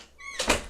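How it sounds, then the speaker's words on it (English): An indoor door swinging shut with a brief creak-free slide and a soft thunk, heard close and alone in a home setting. "Close the door."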